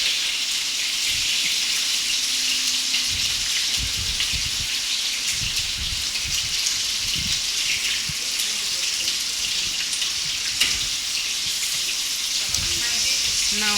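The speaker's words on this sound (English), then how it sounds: "she is constantly turning the beef so it does not stick to the frying pan" Steady, dense sizzling of beef frying in a pan while being turned constantly, crackling continuously at an even level with occasional faint scraping and no talking.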